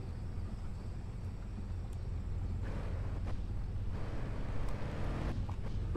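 A car in Car For Sale Simulator 2023 has its engine started, bringing a steady low rumble and whooshing noise that swells partway through and holds at moderate loudness.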